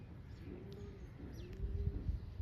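A pigeon coos softly at close range, two low, drawn-out calls in a row, followed by faint rustling and handling noise, with no talking.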